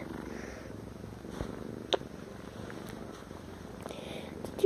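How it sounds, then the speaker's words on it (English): A cat purring steadily and softly at close range, a continuous low rumble with a few faint clicks and no talking. "This is one of my favorite kitties of all time."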